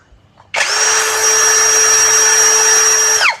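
Ecosen cordless drill spinning at its lowest speed setting, a sudden start into a steady, loud motor whine with a clear pitched tone, holding evenly for about three seconds before stopping.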